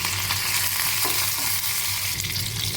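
Spices for a dal tempering sizzle steadily in hot oil with occasional stirring, a continuous close frying hiss.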